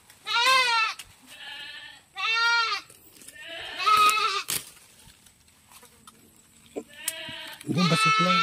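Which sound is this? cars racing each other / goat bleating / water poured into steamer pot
goat bleating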